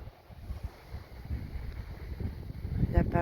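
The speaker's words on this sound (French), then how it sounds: "Il y a pas mal de vent." Strong gusting wind buffets the microphone outdoors in a garden during a fruit harvest, a steady low roar that swells toward the end with a brief knock near the close.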